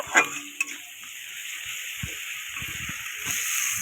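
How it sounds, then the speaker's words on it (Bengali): Chopped onion, garlic and green chili fry in oil in a pan with a soft, steady sizzle, broken by a couple of sharp utensil clinks early and occasional scraping taps. "পেঁয়াজ কুচি রসুন কুচি আর লঙ্কা কেটে এই তেলের ওপর দেওয়া হয়েছে এই যে এটা আমি ভালো করে লাল লাল করে ভেজে নেব"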